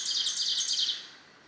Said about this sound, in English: The mnemonic for the ovenbird is teacher, teacher, teacher, teacher, teacher.